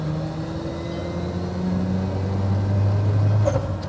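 Single turbo Mazda RX-7 rotary engine sitting at idle, a steady low droning hum with a faint whine, continuous and close with no revving.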